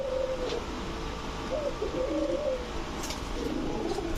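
Gola pigeons coo in soft, repeated low throaty phrases, close by, against a steady background hiss.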